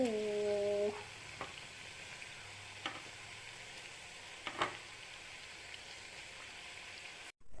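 Diamond biscuits deep-frying in oil over a medium flame: a soft, even sizzle with a few sharp taps and clinks, following a short ringing tone at the start.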